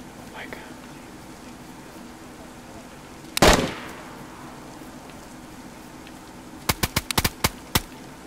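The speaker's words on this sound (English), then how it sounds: "Who's shooting suppressed?" Suppressed gunfire in the survival game DayZ: a single muffled shot, then a quick cluster of five or six sharp cracks a few seconds later, heard over a steady hiss of rain-like background noise.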